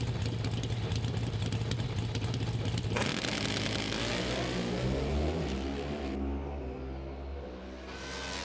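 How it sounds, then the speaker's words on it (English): A Harley drag-racing motorcycle makes a 200 mph run, its engine a loud high-pitched roar that climbs through gears and then fades as the bike speeds away. "Hey, Grove, the first 200-mile-an-hour motorcycle run of the weekend"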